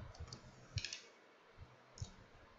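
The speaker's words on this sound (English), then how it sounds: "I'm gonna press F5 on my keyboard to run it" Soft, isolated clicks of keys on a computer keyboard while running a Python program, three or four separate faint taps spread out over a quiet room background.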